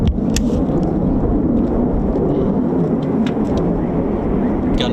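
A Eurofighter Typhoon FGR4 at RAF Coningsby on an evening flying display gives a loud, continuous low roar that fills the air, with a few sharp ticks and crackles over the heavy rumble and no voices.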